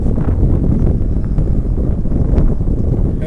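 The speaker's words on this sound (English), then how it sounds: "It's kind of windy over here." Wind buffets a microphone outdoors at an Occupy San Francisco gathering late at night. A continuous, loud, rumbling gusty roar fills the short stretch, with no talk.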